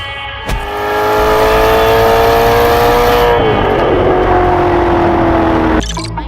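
A Maserati GranTurismo S with its Ferrari-derived V8 holds a loud, close, steady high-revving roar, then drops in pitch as the revs ease off, ending in a short burst of rumble.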